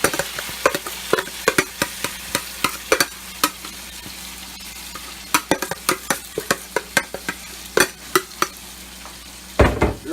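Onions tipped into hot oil for Haitian pikliz sizzle steadily while a utensil scrapes and knocks against the pot in quick, irregular strokes; close and moderately loud, no talking.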